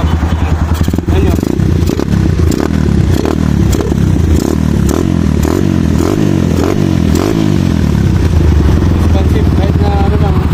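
A KRY 200cc motorcycle fitted with a Power Bomb exhaust pipe runs loud and close, its engine revving in repeated rising and falling bursts with an aggressive throaty exhaust note, no talk heard.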